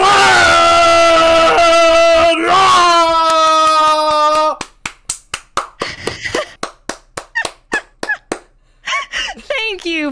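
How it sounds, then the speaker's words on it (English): A stretch of talking gives way to a run of sharp, evenly spaced hand claps, close and loud, at a steady rhythm before a brief return of voices, as an online guest is welcomed. "Please, people, give a warm round of applause"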